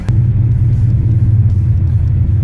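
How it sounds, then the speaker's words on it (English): Turbocharged Ford Mustang with a cam and MicroSquirt engine management, running with a loud, close, deep rumbling idle that pulses slightly unevenly, after a brief sharp click at the start. "So we're gonna go ahead and just crank it over."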